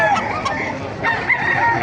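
Roosters and other fowl crow and cluck at a busy Bocaue, Bulacan chicken market, several short calls overlapping in a dense, continuous din with no clear talk.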